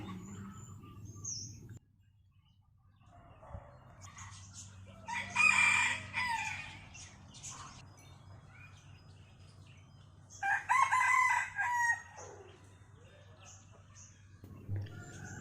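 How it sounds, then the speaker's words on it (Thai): Roosters crow in two loud, drawn-out bursts a few seconds apart, set against a steady low hum and some quieter bird chatter in between, on a cold, overcast day. "ขันแล้วเนาะ"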